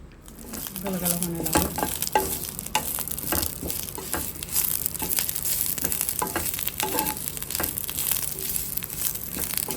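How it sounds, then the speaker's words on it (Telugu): Curry leaves fry in oil in a pan while being stirred, a crackling sizzle with sharp pops and scraping strokes spread throughout, close and fairly loud. "కరివేపాకును కూడా వేయించుకొని వేసుకోవాలి"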